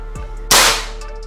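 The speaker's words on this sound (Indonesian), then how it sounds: "Itu tembakan yang pertama" A Predator 460cc full-CNC PCP air rifle fires a Hercules pellet at 2500 PSI: one sharp, loud crack with a short ringing decay, following a brief quiet lead-in.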